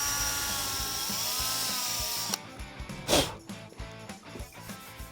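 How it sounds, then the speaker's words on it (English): A variable speed drill whirs steadily while sanding oxidation off a 1994 Ford F-150 headlight, then stops abruptly partway through, leaving clattering handling noises and a brief scrape. "use a variable speed drill so that you can control it a little bit"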